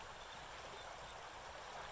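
A forest creek flows in a soft, even, continuous trickling rush, faint and steady throughout with no voices over it.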